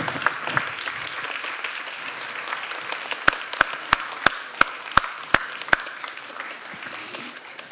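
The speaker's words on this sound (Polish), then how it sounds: "Gorące brawa dla Paliny." Audience applause at an awards gala in Stary Maneż, Gdańsk: a dense, steady wash of clapping from a crowd, with a series of sharp, close individual claps ringing out in quick rhythm partway through.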